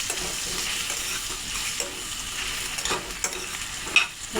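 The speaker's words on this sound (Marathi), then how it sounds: "आता हे मिश्रण आपल्याला पूर्ण फ्राय करून बॉईल करून घ्यायचं आहे" A masala mixture with Kashmiri chili powder frying in a pan for butter chicken gravy, a close, continuous sizzle broken by scraping stirs of a spoon against the pan.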